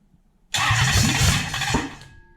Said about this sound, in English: the engine's going to fire into life